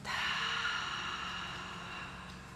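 A person lying in a relaxed savasana yoga pose lets out one long, audible exhale through the mouth, a breathy rush that fades gradually over about two seconds, close and alone.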